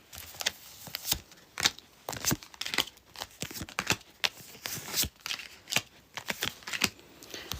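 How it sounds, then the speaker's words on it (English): Tarot cards riffle and slap together in quick, busy bursts of close, crisp shuffling and handling, continuous and loud throughout, with no talking over it. "let me just take the cards"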